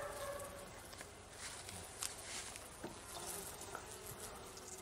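Buckfast honey bees swarming over a hive frame during a queen introduction, a steady close buzzing drone with faint rustles and taps, no talking.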